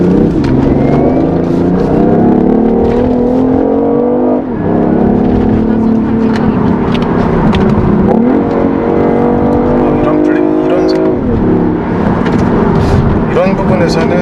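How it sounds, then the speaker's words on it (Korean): A BMW i8 coupe hybrid sports car engine revs hard in sport mode and accelerates through several gear shifts, loud and close, with a voice talking briefly over it. "내연기관다운 소리를 내네요."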